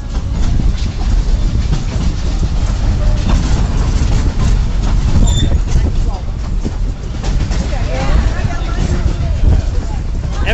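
A passenger train rolls along its rails near a river, giving a loud, steady rumble with faint clatter, while passengers chatter and talk aboard throughout.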